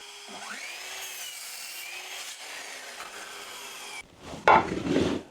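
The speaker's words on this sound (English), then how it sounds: "what I'm going to do is cut down some more wood to go there" Wood is sawn for a workbench frame, a steady rasping stroke close and fairly loud for about four seconds, then a short burst of knocking and handling as the cut finishes.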